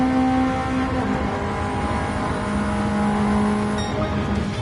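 A Ford Sierra RS 500 engine in the racing game Gran Turismo 7 drones steadily at high revs, loud and close throughout, with no voices over it.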